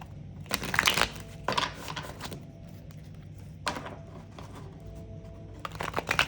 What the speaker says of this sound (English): I shuffled several times.